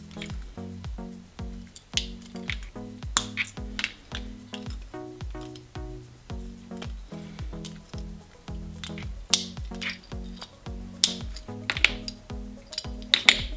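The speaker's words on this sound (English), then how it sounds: "So going in with my running pliers, I'm just gonna lightly pinch until I hear the crack." Running pliers pinch and snap scored stained glass, giving a series of sharp, close cracks and clinks at an irregular pace, separated by quiet handling noises.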